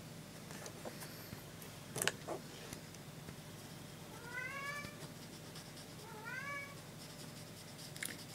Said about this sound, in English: Sorry if you can hear my cat whinging in the background.